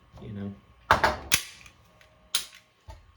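A pistol being dry fired gives several crisp mechanical clicks and snaps, close and fairly loud, in an irregular sequence over about three seconds with quiet gaps between them.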